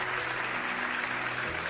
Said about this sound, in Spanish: Un aplauso fuerte para ti.